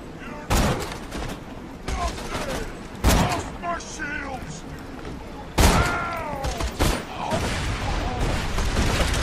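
Gunfire and grenade blasts in the video game Borderlands 2, with loud booming explosions and rattling shots, close and punchy, while a voice shouts over the action.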